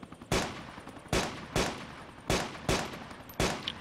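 Gunfire in the video game DayZ, six sharp, loud shots spaced roughly half a second to a second apart, each with a short echoing tail, and no talk.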